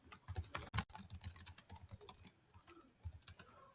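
Quiet clicking of a computer keyboard as text is typed and deleted in a Google Doc, a quick irregular run of keystrokes with short pauses, heard alone without speech.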